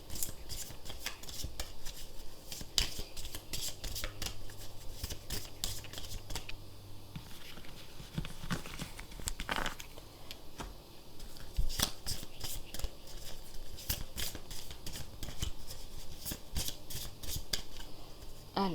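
Angel of abundance oracle cards shuffled and handled at close range, a steady papery riffling and rubbing with brief sharper flicks and snaps running throughout, alone without talk.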